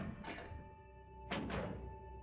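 Two heavy mechanical clunks about a second apart, a lever being pulled down in Resident Evil HD Remaster, over a low steady hum.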